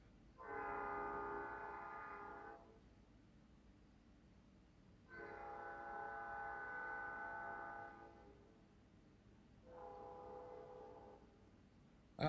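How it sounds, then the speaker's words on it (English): Three long, loud horn blasts sound from a passing train, each held for a couple of seconds with quieter gaps of rumble between, fairly distant and with no talk. "I hear the train a-coming."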